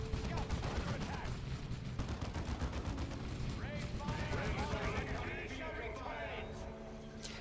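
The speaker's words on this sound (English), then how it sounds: "Plasma cannon." A plasma cannon fires amid a Warhammer 40k Dawn of War 2 Retribution battle, with dense bursts of weapon blasts and explosions rumbling throughout under continuous commentary.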